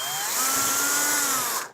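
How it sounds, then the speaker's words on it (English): A power drill runs a large bit straight through PVC pipe, following a smaller pilot hole, with a steady loud whine that holds for nearly two seconds before cutting off abruptly. "we will follow the hole we made for the small drill bit right through with the"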